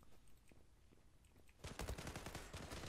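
Automatic gunfire in the online shooter Zula Europe breaks out after a quieter stretch of faint clicks, then rapid loud bursts of shots rattle through to the end.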